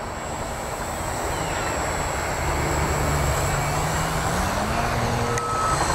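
Radio-controlled Addiction X aerobatic model plane in flight, a steady high-pitched electric motor whine droning continuously at moderate distance, its pitch shifting slightly as the plane moves, with no talk.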